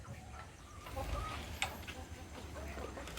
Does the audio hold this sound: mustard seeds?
no